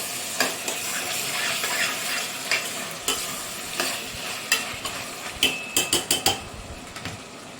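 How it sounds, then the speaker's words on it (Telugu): Mutton fries with ginger garlic paste in a pan, giving a steady sizzle under repeated metal scrapes and clinks of a spoon stirring, which grow sharper and quicker toward the end. "అల్లం వెల్లిపాయ పేస్టు ఒకసారి కలిపేసుకుని కొద్దిసేపు మగ్గనిద్దాము"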